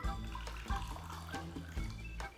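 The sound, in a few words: warm water poured into glasses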